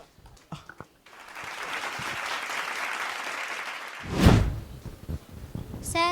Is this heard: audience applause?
yes